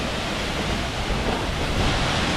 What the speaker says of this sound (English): The water is just coming from up there and flowing into beautiful creek.